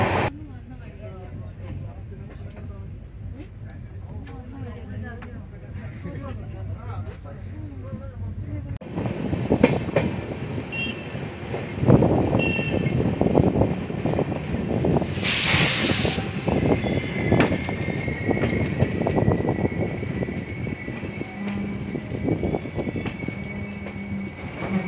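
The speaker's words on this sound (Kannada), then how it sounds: "ನಮ್ಮ ಟ್ರೈನ್ ಇವಾಗ ಹೊಸೂರು ರೈಲ್ವೆ ಸ್ಟೇಷನ್ ಹತ್ರ ಬಂದಿದೆ. ಇನ್ನೇನು ಪ್ಲ್ಯಾಟ್ಫಾರ್ಮ್ ಎಂಟ್ರ್ ಆಗಬೇಕು." A Garib Rath superfast train with LHB coaches nearing Hosur station: a quiet start gives way to a loud rolling rumble and clatter of wheels with a brief hissing burst, under a voice talking early on.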